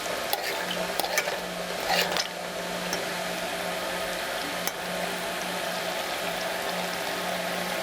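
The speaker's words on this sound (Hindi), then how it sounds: "घी डालेंगे, गोश्त और मसालों को घी में अच्छे तरीके से फ्राई कर लेंगे।" Meat and spices fry in ghee in a pot with a soft, continuous sizzle and a few stirring clatters early on, moderately quiet beneath a low steady hum.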